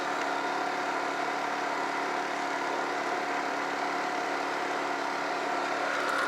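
A generator runs nearby with a steady, unbroken engine drone of moderate loudness and a faint vibrating hum. It holds constant the whole time with no voices.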